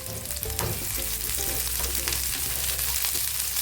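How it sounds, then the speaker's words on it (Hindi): Onions fry lightly in a pan as the base for a Maharashtra-style prawn masala, giving a steady close sizzle with faint clinks, no voices. "प्याज को पहले हम हल्का फ्राई करते हैं, उसके बाद हम एक एक करके सारे मसाला ऐड करेंगे।"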